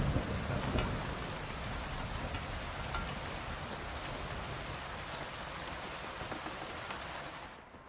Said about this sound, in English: One of the best thunderstorms I've ever heard in a game